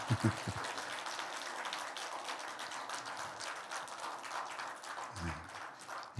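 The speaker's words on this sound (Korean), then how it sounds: "귀한 말씀 우리 전해주신 우리 장로님 위해서 박수 한번 더 하겠습니다" A church congregation at a Sunday service claps for an elder, a dense, even patter of hands rolling on for several seconds at a soft, slightly distant level, with a low thump or two near the start.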